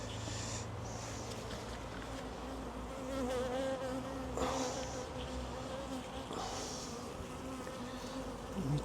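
Honeybees buzz steadily throughout a beehive inspection, a dense close swarm drone that swells slightly at moments, with no talking.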